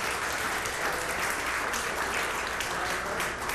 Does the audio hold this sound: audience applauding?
yes